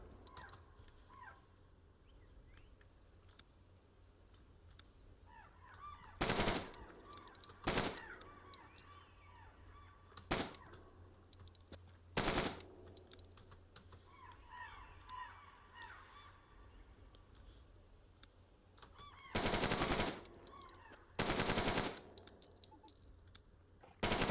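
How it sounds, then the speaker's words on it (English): Bursts of gunfire from a gunfight in the tactical shooter Door Kickers, with several loud separate shots and short volleys spread across the stretch over a quiet background. "Alright, gunfight's on."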